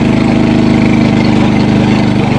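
Motorbike engine labouring uphill on a rough mountain trail through forested hill country, a steady loud droning chug with a pulsing low rumble, continuous and close, no talk.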